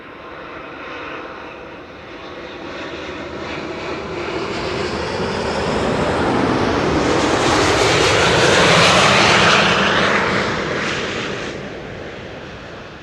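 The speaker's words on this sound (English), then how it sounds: "Delta Airlines Flight 160 arriving from Minneapolis, Minnesota." A Delta Air Lines Airbus A350-900 arriving at Schiphol from Minneapolis swells from a distant jet rumble to a loud, close roar with a rising whine as it passes, then begins to fade, heard alone.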